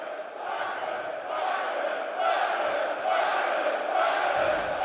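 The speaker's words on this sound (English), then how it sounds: "the UK crowd has finally come to life here in Birmingham." An esports tournament crowd in Birmingham, UK cheers and roars in a large arena, a loud sustained wash of voices that swells in waves.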